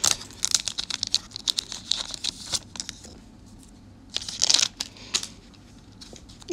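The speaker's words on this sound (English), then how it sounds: "I am using scissors because I couldn't figure out how to open these packs" Crisp crinkling and snipping bursts in clusters as scissors cut open trading card packs, pausing briefly before another run of cutting and rustling close by, no talk.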